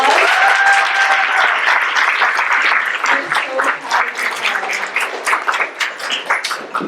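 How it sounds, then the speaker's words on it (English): A crowd at an arts benefit program applauds a medical resident being introduced, loud dense clapping that begins full and gradually thins into more separate claps, with a brief voice heard early on. "Let's give her a round of applause."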